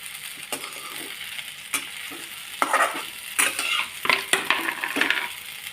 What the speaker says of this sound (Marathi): मी आता हे चांगल्या प्रकारे तळून घेते साबुदाणा